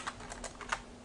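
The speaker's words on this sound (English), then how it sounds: "let's type something like" Quick bursts of typing on a computer keyboard, a handful of light key clicks in an uneven rhythm, close but quiet.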